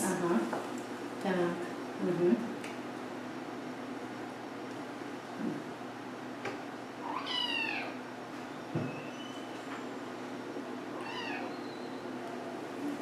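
A cat meows several times at irregular intervals, with plaintive, rising cries against a low background hum, during a veterinary examination as its rectal temperature is taken.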